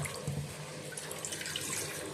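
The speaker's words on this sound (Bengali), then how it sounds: "মাছটা ধুয়ে নিচ্ছি।" Fish being rinsed under a running kitchen tap: a steady splashing stream of water over the fish and sink, close and moderately quiet, with small handling splashes and no talking.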